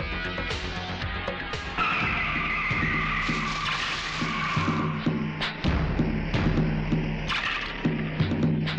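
A car skids to a stop in a dramatic scene from a Bollywood film, a long loud tire squeal sweeping across several seconds over engine rumble and thuds, mixed with a music score.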